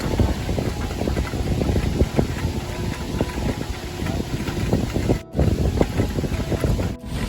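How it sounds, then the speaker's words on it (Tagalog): Strong outdoor wind on a gusty day in the Netherlands buffets the microphone in continuous rough rumbling gusts, with brief dropouts as the blasts shift. "medyo mahangin po, no? Windy masyado ngayon."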